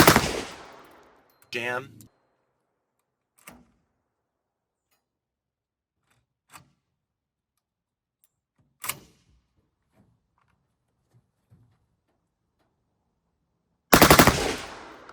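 A 12 gauge shotgun mounted on an M60 fires high brass number 5 game loads and 1-ounce slugs while its magazine has feeding problems: a handful of loud, sharp single blasts separated by long irregular silences, with someone briefly speaking.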